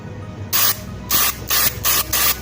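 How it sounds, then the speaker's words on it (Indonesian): Spray blasts through a hose into the spark plug hole of an engine cylinder, in four loud bursts of hiss separated by short pauses. "Lalu kita semprot ya"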